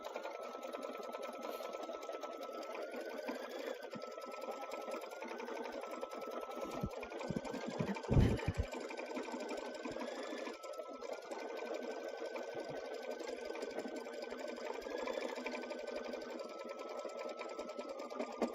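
An embroidery sewing machine stitching out a zippered bag, running steadily with a fast, even mechanical whir and light rhythmic clatter throughout, with a brief louder knock midway.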